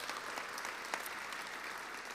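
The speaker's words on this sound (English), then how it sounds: "he deserves a big round of applause for all that he's done." Audience applause at a comedy award acceptance in Canada, a steady wash of clapping from a crowd that holds evenly throughout, with no talk over it.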